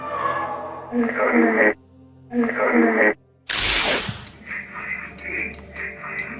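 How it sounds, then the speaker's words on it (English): An electronic voice phenomenon (EVP) recording: short bursts of garbled, voice-like sound crackle through radio static, separated by brief silences, followed by a sharp hiss of noise. "This is known as the electronic voice phenomena, or EVP"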